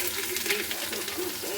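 Cumin seeds and garlic sizzling in hot oil in a pan for a bottle gourd curry, a steady close frying crackle with light stirring and no talk.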